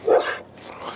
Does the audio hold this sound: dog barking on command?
yes